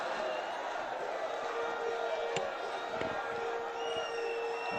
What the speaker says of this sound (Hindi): अपने स्थान पर खड़े होकर तालियों के गड़गड़ाहट से